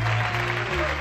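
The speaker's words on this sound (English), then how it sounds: "Big round of applause for Donald Brown at the piano." Jazz concert audience applauding the pianist, a short burst of steady crowd clapping blended with sustained band tones and a voice underneath.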